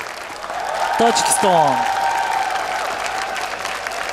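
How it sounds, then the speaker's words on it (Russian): Applause from a television show audience greeting a guest, steady clapping underneath someone briefly speaking. "Ваши аплодисменты."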